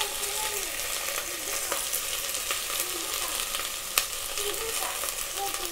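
Vegetables for fried rice, including potato, curry leaves, capsicum and okra, sizzle steadily in a hot pan while being stirred, with occasional scraping clicks over a constant frying hiss.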